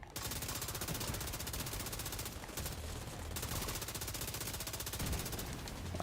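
Sustained gunfire crackles through a firefight in The Division 2, with a continuous rapid stream of shots and sniper fire, steady and fairly loud with a brief lull partway.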